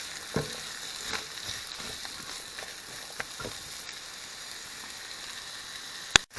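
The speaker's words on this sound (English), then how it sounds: "I want to caramelize the onions" Onions caramelizing in butter in a pan, giving a steady soft sizzle with a few faint clicks and a sharper knock near the end.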